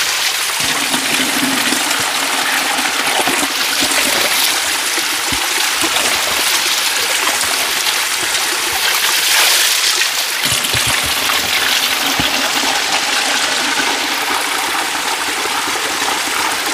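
Spring water mixed with rainwater runs through a forest stream in a constant, full rushing and gurgling flow that stays even and close throughout, with no voices.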